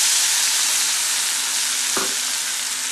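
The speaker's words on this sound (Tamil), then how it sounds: "அந்த வெங்காயம், தக்காளி அண்ட் ஒரு பச்சை மிளகா, இந்த விழுதை சேர்க்குறேன்" Onion, tomato and green chili paste frying with cumin seeds for chana curry gives a loud, steady sizzle throughout, with one short scrape of stirring near the middle and no voices.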